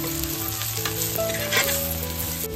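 Masala spices frying in a pan with onions as the base for a prawn masala, giving a steady, loud, continuous sizzle throughout, with no voices.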